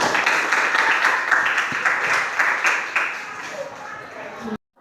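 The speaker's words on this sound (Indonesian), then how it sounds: "Tepuk tangan untuk kelompok 3." A classroom of students applauds a presenting group, with dense, close clapping that gradually fades and then stops abruptly near the end.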